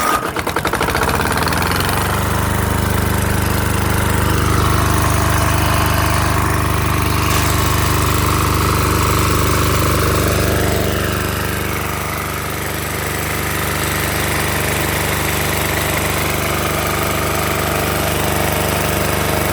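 A Yanmar 186F 10 hp single-cylinder diesel generator engine runs steadily and loudly nearby, a continuous low knocking drone with no talk over it.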